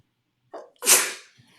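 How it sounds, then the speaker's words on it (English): A single sharp human sneeze with a short intake of breath before it, close and loud against an otherwise quiet background. "had a little sneeze there."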